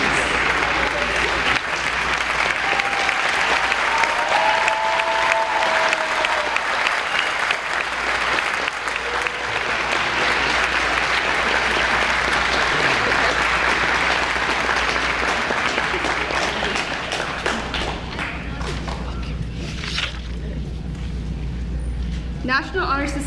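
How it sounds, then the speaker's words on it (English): Sustained loud applause from an audience at a high school National Honor Society induction ceremony, steady dense clapping throughout with a few voices and cheers mixed in, tapering slightly near the end. "round of applause for all our new inductees"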